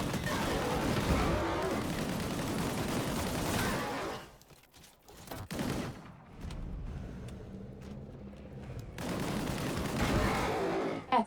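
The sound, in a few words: gunfire from primary weapon in a video game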